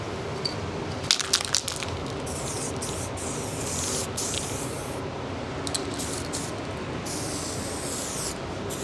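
A spray gun lays a light, translucent coat of 2K etch primer onto a new truck bedside, a steady broad hiss running throughout with a few brief crackling bursts near the start.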